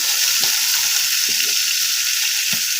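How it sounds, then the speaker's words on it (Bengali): Fish fries in oil with a loud, continuous high hiss, broken by a few soft knocks of a utensil against the pan. "মাছ ভাজা শুরু করে দিচ্ছি"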